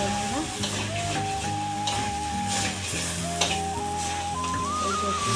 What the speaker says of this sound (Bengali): এই যে সর্ষের তেল দিয়ে একটু ভাজা ভাজা করে নিচ্ছি